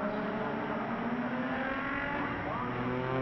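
Spec Z race cars accelerate together at a race start at Mid-Ohio, a sustained layered engine drone with rising harmonic whines, steady and moderately loud under faint commentary.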